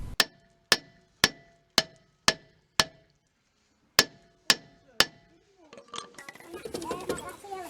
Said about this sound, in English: give the drum a bit of a tap, just free everything off